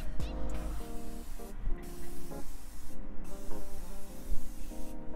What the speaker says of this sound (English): I'm gonna set my face with the Morphe Continuous Setting Mist